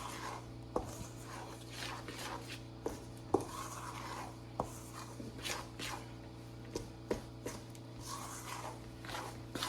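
Flour being mixed into bread dough for a dill seed braid loaf, heard as soft rubbing and scraping with scattered light knocks of a spoon or bowl, close and quiet over a steady low hum.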